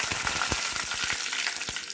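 Fenugreek and mustard seeds fry in hot oil for a beetroot pickle, with a loud, continuous sizzle broken by quick pops and crackles, heard up close and alone.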